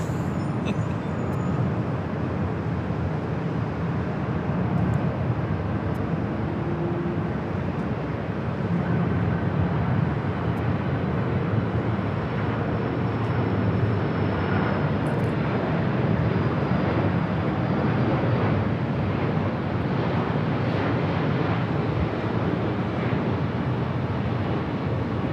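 An airliner arriving on the north side of LAX airport produces a broad, steady jet roar that holds for the whole stretch, swelling slightly midway, heard from a distance with no talking.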